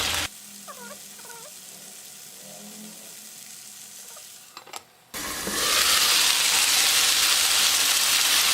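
Loud, steady sizzling of eggplant frying in oil in a pot, a dense hiss that swells and stays constant, following a quieter stretch with faint clinks.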